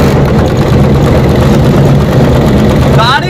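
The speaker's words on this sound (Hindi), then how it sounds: "ये इंजन का साउंड है" A Mahindra Alfa Plus BS6 cargo three-wheeler's diesel engine idles steadily up close, a low rattling throb that holds even throughout, with a brief higher whine near the end.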